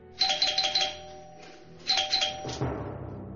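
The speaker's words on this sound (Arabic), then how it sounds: "وبينما كانا يتساومان رن جرس الباب" A household doorbell chimes twice in a row, bright ding-dong tones ringing out clearly with a short pause between the rings, then a dull knock-like thud.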